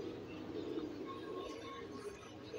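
Pigeons keep up a low, steady cooing, a continuous overlapping rumble of calls at moderate loudness with no voices over it.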